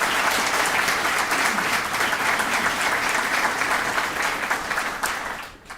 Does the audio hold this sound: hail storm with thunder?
no